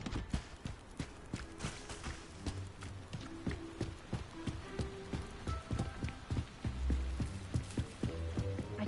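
Horse hooves clip-clop at a steady trotting rhythm in the Hogwarts Legacy video game, a run of distinct sharp knocks that stays fairly quiet and close throughout.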